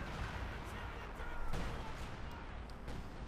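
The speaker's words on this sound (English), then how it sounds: "Artillery strike from the Major, interesting choice there by Brosras" An artillery strike in the Company of Heroes 2 war strategy game sends a barrage of heavy shell blasts and gunfire crackling across the battlefield, moderately loud and continuous, with a voice talking over it.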